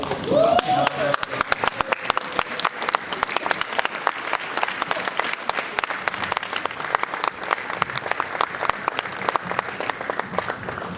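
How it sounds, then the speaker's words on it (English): A standing audience at an address by Sierra Leone's vice president gives itself a round of applause, sharp, dense clapping sustained at a fairly loud level, with a brief voice at the very start. "I want you all to stand up and give yourself a big round of applause"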